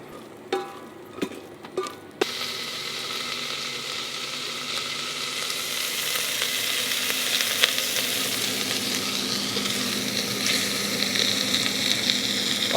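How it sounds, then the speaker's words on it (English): A few sharp knocks inside an Instant Pot in a camper van, then onions hit hot oil and a loud, close sizzle takes over and holds steady with faint crackling throughout. "we're going to throw our onions in and start browning those"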